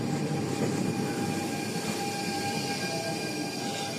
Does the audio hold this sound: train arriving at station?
yes